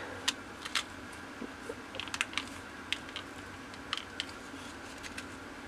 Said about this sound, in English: Push this down till it closes